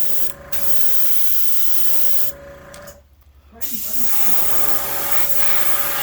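Spray gun mists green paint mix at low pressure onto a vintage Wiggle Wart fishing lure, a loud steady hiss with one brief pause midway under a constant hum.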